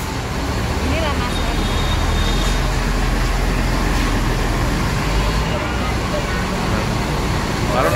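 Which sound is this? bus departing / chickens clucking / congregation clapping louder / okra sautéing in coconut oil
bus departing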